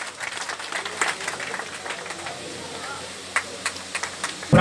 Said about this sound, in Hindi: तालियां बजाते चले।